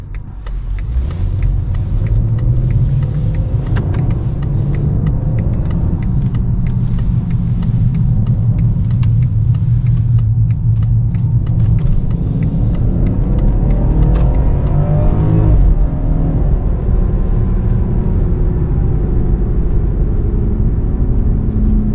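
A BMW 540i engine roars loudly as it accelerates hard in sport mode, revs climbing and shifting through gears, heard from inside the cabin with steady road rumble.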